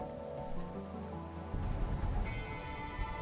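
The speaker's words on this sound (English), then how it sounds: "That was the sound of raining and not music." Rain patters steadily on a surface in The Darkside Detective game, a soft continuous wash that thickens partway through, heard alone without talk.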